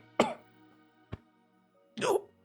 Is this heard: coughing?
yes